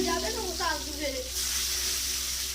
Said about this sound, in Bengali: বিরিয়ানি না দিয়ে কিছু বেগুন ভেজে নিচ্ছি